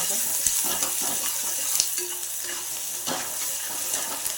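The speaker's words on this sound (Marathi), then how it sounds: "आता आपण कांदा टाकूया चांगलं मिक्स करायचं" Chopped onion sizzles in hot oil in a pan for a fish biryani, with a steady frying hiss and a few scraping stirs and clinks of a spoon against the pan, close and alone without talk.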